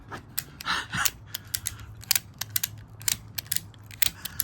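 A hand crank on a rooftop tent is turned in a quick series of sharp, close ratcheting clicks, irregular but steady, with no talk.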